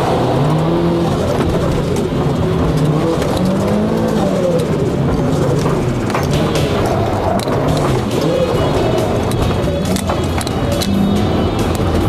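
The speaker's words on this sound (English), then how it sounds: "Fadi Amada drove an exciting demonstration run at Auto Solo Round 2 in his 2005 Syrian Hill Climb Championship winning Mitsubishi Lancer Evo." A 2005 Mitsubishi Lancer Evo hill climb rally car makes a demonstration run at an Auto Solo event, its engine loud and continuous with revving and shifting pitch throughout, tire noise mixed in.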